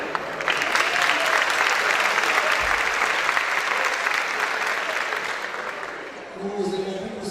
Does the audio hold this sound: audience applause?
yes